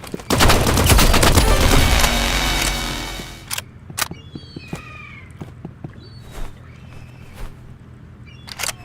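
Assault rifle fire in a video game opens as a dense, loud burst of rapid shots for about three seconds, then scattered single shots and short bursts sound farther off.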